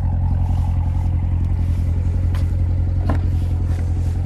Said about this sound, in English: just a menacing exhaust